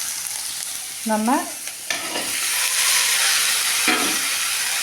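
Onions and tomatoes sauté in a pan for a raw jackfruit curry gravy, with a steady sizzling hiss and several scraping stirs of a spoon. A brief spoken word is heard.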